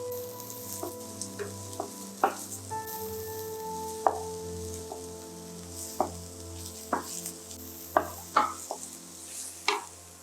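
Green beans stir-frying for Bihun Goreng fried glass noodles, with a steady sizzle and repeated sharp scrapes and clacks as the pan is tossed and stirred, close and without speech.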